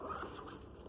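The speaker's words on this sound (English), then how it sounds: "Zip this back up." A zipper on an REI RuckPack 40L travel backpack is pulled closed in one quick, soft continuous rasp, close and alone.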